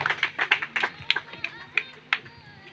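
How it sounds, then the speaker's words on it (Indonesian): Applause for Ruben at a village head candidates' event in Niunbaun, Kupang: a short burst of scattered hand claps from a small crowd, uneven and thinning out over a few seconds. "Kita memberikan aplaus kepada Bapak Ruben, Kakak Ruben yang mengangkat nama pemuda"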